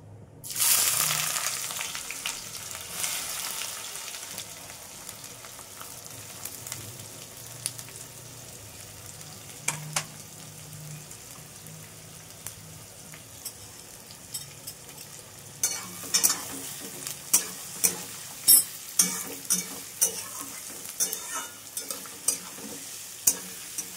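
Chopped onions drop into hot oil already fragrant with fried tempering spices, giving a loud hissing sizzle that settles into a steady fry, followed by repeated sharp scraping and tapping as they are stirred in the pan.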